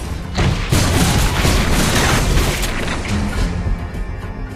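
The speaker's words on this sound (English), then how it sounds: "Our turret has been destroyed." A turret is destroyed in a video game, giving a loud, sustained booming explosion with rumbling debris that rolls on for several seconds and slowly fades.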